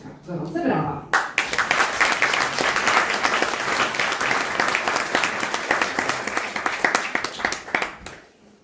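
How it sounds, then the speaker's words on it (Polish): An audience at a benefit concert marking a poet's 45 years of creative work claps warmly after performers are introduced, with a brief voice at the start before loud, sustained applause fills the hall and fades out at the close. "Gorące brawa!"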